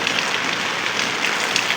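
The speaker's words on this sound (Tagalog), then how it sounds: "Sobrang lakas ng ulan." Dense, hissing downpour of heavy rain, a steady wash of drops with no pauses.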